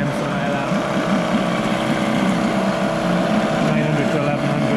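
A Johnson 4 hp Seahorse two-stroke outboard motor runs steadily at fast idle, a continuous buzzing drone with a fine rapid pulse, close and fairly loud throughout.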